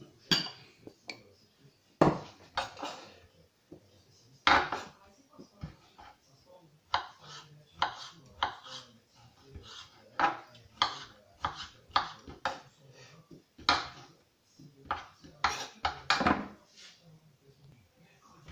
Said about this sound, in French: On les coupe en petits carrés, comme ça.